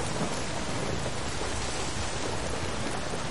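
Heavy rain pours in the video game Days Gone, a dense, even hiss of downpour filling every moment with no voices over it.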